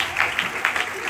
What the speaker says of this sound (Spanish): Un aplauso a la palabra de Dios.